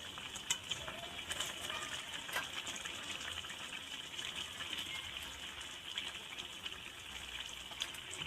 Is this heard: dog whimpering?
no